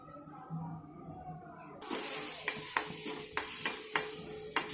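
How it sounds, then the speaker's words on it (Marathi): Wet curry leaves dry-roast in a kadhai, starting with quiet handling and then breaking into a hissing crackle with sharp spitting pops and scrapes of a spoon against the metal pan, close and distinct. "कढीपत्ता स्वच्छ धुवून घेतलेला आहे आणि त्याच्यामध्ये पाणी आहे, तर मी कढईमध्ये अगोदर तो ड्राय करून घेणार आहे."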